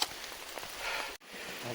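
Steady rain hisses over an outdoor spot where pears are being loaded onto a truck in the hills, a broad wash of patter with a brief dropout partway through and faint voices beneath.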